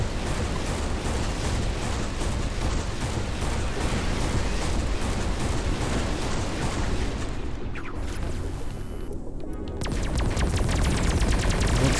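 Sustained, dense gunfire and explosions from the space shooter game Everspace 2 fill the whole stretch, loud and continuous with rapid overlapping blasts and no talk.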